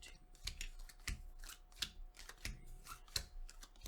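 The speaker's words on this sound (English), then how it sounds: "I've shuffled this deck up good. Let's go ahead and shuffle those 5 cards out there." A deck of cards being shuffled for a tabletop board game, with soft, close riffling and scraping strokes in irregular bursts about every half second, quiet and with no talking.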